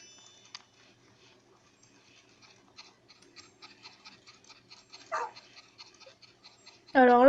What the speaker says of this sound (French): je trouve qu'il aboie super fort, enfin super grave